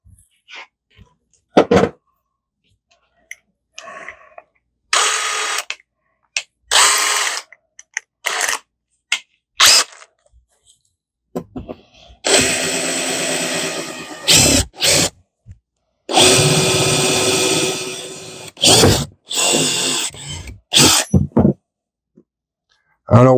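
Several bursts of a power drill whirring, short spurts then two longer runs, close by, with brief clicks and pauses between.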